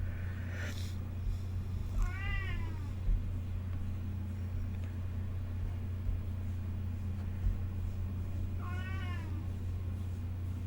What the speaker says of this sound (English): The cat's trying to get in the room.